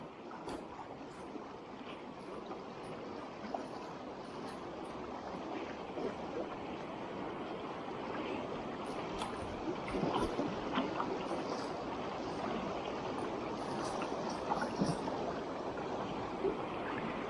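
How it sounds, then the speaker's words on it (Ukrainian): Rushing water from a waterfall at a fishing spot on New Year's Day, a steady broadband roar that swells slightly midway, heard alone without talk. "Тут такий водоспад теж."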